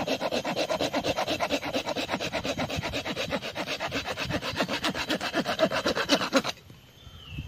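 A Silky pocket saw cuts through the hard bark of a nibung palm trunk in steady, rapid back-and-forth strokes, loud and close, stopping abruptly near the end.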